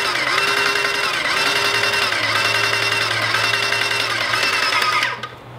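A Titan paint sprayer runs water through to clean itself, a loud, close, steady mechanical pumping whir with a regular pulsing rhythm that stops abruptly near the end.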